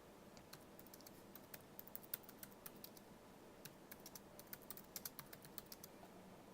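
Fast typing on a computer keyboard, heard as soft, quick key clicks in irregular bursts over a steady background hiss, faint and fairly close, with no talking.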